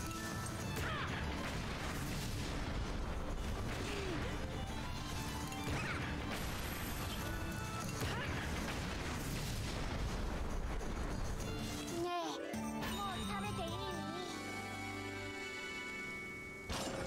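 Loud, dense battle noise from the game Fuga: Melodies of Steel, with repeated heavy booming big-cannon blasts and crashing impacts, continuous throughout, with a sharp break and shift near the end.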